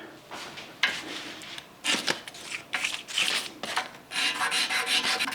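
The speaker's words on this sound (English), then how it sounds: "so we're just gonna taper the top a little bit" A file rasps against a guitar nut in short, separate strokes, tapering its top; the scraping is close and fairly quiet, with brief pauses between passes.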